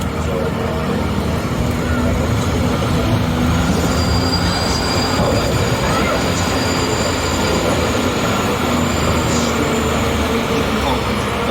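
A Universal Studios Hollywood backlot tour tram rumbles steadily along its rails, loud and continuous, while thin metallic wheel squeals rise and fade over the noise.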